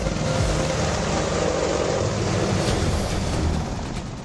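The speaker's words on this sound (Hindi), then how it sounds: "अपाचे हेलीकॉप्टर दहाड़ रहा है।" A loud, steady roar of an Apache helicopter, broad and rushing like heavy wind, holding level before easing slightly toward the end.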